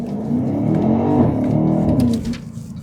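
A 600-horsepower BMW X5 M Competition engine accelerates with a loud, close, rising growl that holds steady for nearly three seconds before easing off, with no voices.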